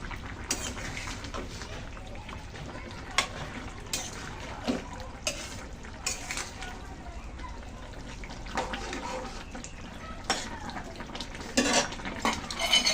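Koi fish curry with bottle gourd and potato is stirred and mixed in a pan, with soft repeated scraping and clinks of a utensil against metal over a low background hiss, quiet and close.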